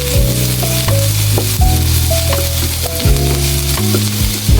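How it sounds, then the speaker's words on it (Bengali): Onions lightly frying in a pan with a little salt give a steady, close sizzle, with musical tones playing over it throughout. "হালকা একটু পেঁয়াজটা ভেজে নেবো"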